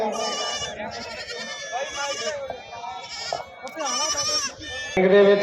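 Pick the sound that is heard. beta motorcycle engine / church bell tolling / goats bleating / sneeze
goats bleating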